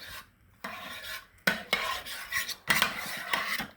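Hash browns tossed with melted salted butter in a crockpot, heard as bursts of scraping and stirring from a utensil against the pot, loud and close, in several separate strokes with short pauses between.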